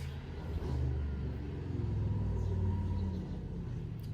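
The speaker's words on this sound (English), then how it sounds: "all the noisy vehicles now" A low, steady rumble of vehicles going by outside, moderately loud and continuous for a few seconds, swelling slightly in the middle with a faint revving edge.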